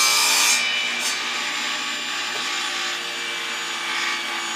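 Table saw ripping through a wooden workpiece, a steady close, loud broadband whine of blade on wood with a harsher burst at the start, running continuously with no talk.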